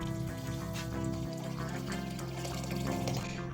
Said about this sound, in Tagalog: Dagdagan pa natin yung tubig para lumambot.